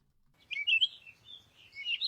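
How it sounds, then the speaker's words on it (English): Birds chirping as a sound effect, a few bright high tweets and short trills rising out of near silence, clear and isolated with no talk. "let's go ahead and search for something like birds chirping"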